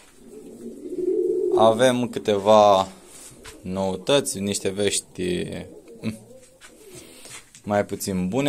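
Pigeons coo in an aviary, soft bubbling calls rising at the start and recurring through the clip, heard close while someone talks over them.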